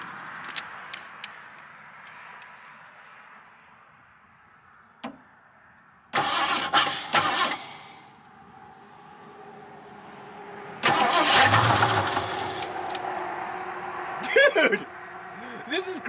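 A 1977 Ford Ranchero engine cranks and fires, roaring up loudly twice in long bursts and settling into rough running between them, with people talking over the quieter gaps.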